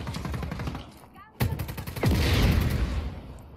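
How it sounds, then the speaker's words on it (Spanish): Gunfire in the video game Just Cause 4, a burst of shots and a sharp blast over a busy game soundscape, with a sweeping whoosh afterward; a voice talks faintly underneath. "¿Están disparando cerca? ¿Dónde carajos nos están disparando, tío?"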